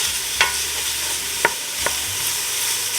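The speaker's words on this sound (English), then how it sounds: "everything's starting to sizzle. So I'm going to give it a stir." Bacon and chopped vegetables for Neapolitan pasta e fagioli sizzle loudly and evenly in a pan, while a spoon scrapes through them in three distinct stirring knocks.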